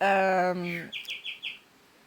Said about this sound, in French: il y a l'oiseau qui chante